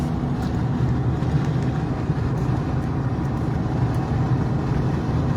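A vehicle coasts along a hilly mountain road, its engine and road noise forming a steady, loud, unbroken rumble with no talking.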